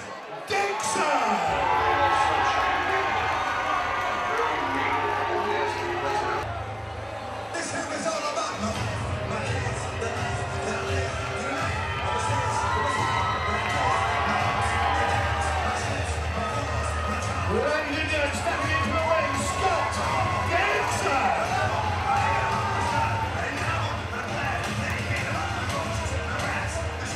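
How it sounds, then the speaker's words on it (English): An indoor crowd at a charity boxing bout in Ipswich cheers and applauds a boxer as he is introduced, a steady loud roar of voices and claps under an announcer and music. "Give a big round of applause for Scott Dixon!"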